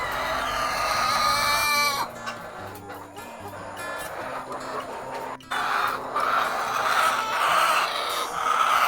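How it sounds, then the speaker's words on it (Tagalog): Ready-to-lay hens on a farm make a continuous hungry chorus of clucks and squawks, moderately loud and dense throughout, over a steady background hum. "Kinaumagahan, inyong maririnig ang mga ingay ng RTL."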